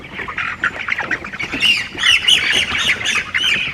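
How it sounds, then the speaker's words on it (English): Farm chickens squawk repeatedly at close range, a rapid run of harsh overlapping calls that grows busier and louder in the second half. "Chickens."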